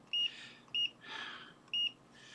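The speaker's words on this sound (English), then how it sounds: "can you hear that? That's a beep, beep, beep." A multimeter in continuity mode gives three short, clear electronic beeps at a steady rhythm, with a faint hiss and rustle between them.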